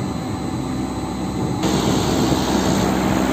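A York fan motor runs with a steady, loud whirring drone and constant tonal hum, the pitch and level stepping up slightly partway through as it comes up to speed.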